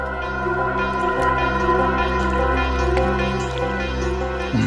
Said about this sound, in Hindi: पानी की आवाज आ रही है सर।